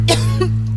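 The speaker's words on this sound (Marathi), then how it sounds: "सुकी खोकली ती" One short, dry cough, close and loud, over a steady electrical hum.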